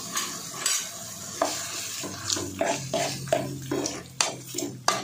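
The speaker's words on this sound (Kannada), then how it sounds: "ಚೆನ್ನಾಗಿ ಎಣ್ಣೆಲಿ ಫ್ರೈ ಮಾಡ್ಕೊಳ್ಬೇಕು ಟೊಮೊಟೊನ, ಸಾಫ್ಟ್ ಆಗೋವರೆಗೂ ಫ್ರೈ ಮಾಡಿಸ್ಕೊಂಡಿದ್ದೀನಿ" Tomatoes frying in oil, with a steady sizzle and a run of scraping, knocking stirring strokes in the pan, close up and with no voices.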